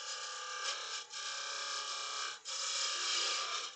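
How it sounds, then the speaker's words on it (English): A straight scraper cutting a small wooden finger pot on a woodturning lathe gives a steady, close rasping scrape with two brief dips, continuous throughout. "So I'm gonna grab that. That straight scraper again."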